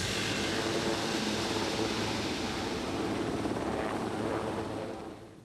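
A hovering rescue helicopter makes a loud, continuous, broadband rotor and engine roar that stays steady, then fades slightly near the end. No voices are heard.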